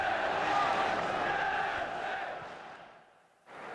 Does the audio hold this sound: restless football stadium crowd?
yes